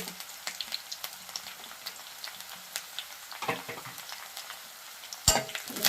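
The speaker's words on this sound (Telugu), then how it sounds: "ఇది వేగింది, కొంచెం వేగిన తర్వాత కొంచెం కరివేపాకు వేస్తాను, పచ్చిమిర్చి" Chicken fries in a pan with curry leaves and green chillies going in, a steady crackling sizzle broken by scattered pops and one sharp louder spatter near the end; no one speaks.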